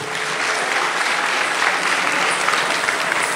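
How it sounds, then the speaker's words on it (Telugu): Steady, dense applause from a live audience after a dance performance by a visiting Indian dancer on a main stage, continuous and even throughout with no talking over it. "ఇంకొకసారి గట్టిగా చప్పట్లు కొట్టండి."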